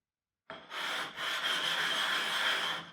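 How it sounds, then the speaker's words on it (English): A whetstone being rubbed to level its surface gives a steady, close scraping rasp that starts abruptly and continues in even strokes with brief dips, with no talking. "I try to remove all of this grid with my whetstone, basically leveling the entire surface"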